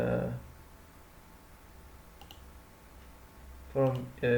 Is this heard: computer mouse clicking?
yes